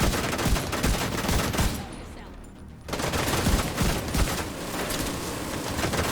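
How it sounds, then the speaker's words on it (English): Heavy machine gun fire from The Division 2 rattles in dense continuous bursts, loud and close, with a short lull midway before the shooting resumes. "We've not got two machine guns firing at us."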